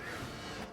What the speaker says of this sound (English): Printer.